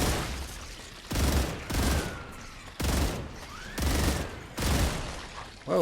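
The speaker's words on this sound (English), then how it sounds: "My gun is really inaccurate." Gunfire from the hip in the sci-fi game StarRupture comes in five separate loud automatic bursts, each roughly half a second long, with short quiet gaps between them.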